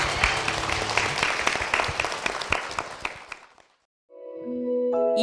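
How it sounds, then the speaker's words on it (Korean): Applause from a church congregation during a worship broadcast, loud and dense for about three and a half seconds, then fading to silence before a tonal musical sound comes in. "주님께 영광의 박수를 드리겠습니다"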